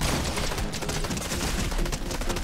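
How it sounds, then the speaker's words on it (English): Video game gunfire from a player shooting on a roof: a dense, continuous burst of rapid shots filling the whole moment, loud and close, with no talk over it. "he's shooting on the roof"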